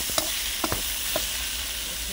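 Shrimp and bottle gourd pieces, rubbed with turmeric and salt, frying in hot oil in a wok, a steady broadband sizzle with a few sharp clinks of stirring near the start and middle.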